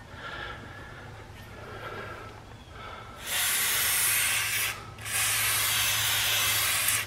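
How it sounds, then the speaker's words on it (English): WD-40 lubricant sprays in two long, loud hissing bursts around the rear brake hub of a Ram truck, with a brief pause between them and a low background hum before they start. "try putting a little bit of WD-40 or something around the hub here"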